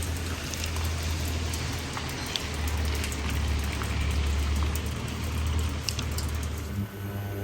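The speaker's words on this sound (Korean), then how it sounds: "비가 와서 너무 좋네요" Steady rain in Malaysia hisses loudly and close in a dense, continuous wash, with low rumbling traffic noise running underneath and occasional sharper drips standing out.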